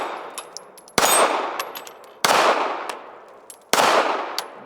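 A Ruger Security-380 double-stack pistol fires three loud, sharp shots spaced about a second or more apart. Each crack is followed by ringing metallic echo and fades before the next, with no talking.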